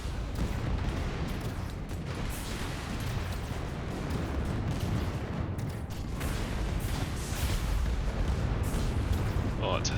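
Dense, continuous gunfire pours onto the Praetorian Guard group in AI War 2, a rumbling barrage of overlapping shots and blasts at a moderate distance that never lets up.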